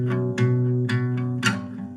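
A guitar plucked with bare fingers, a few soft, rounded notes ringing over a sustained chord, close and alone, with gentle attacks and a brief pause between plucks.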